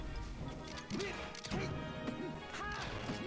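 Up smash attacks land in Super Smash Bros. Melee, a Falco versus Fox match: a few sharp hits ring out over constant game music and crowd murmur, with quick electronic swoops between them.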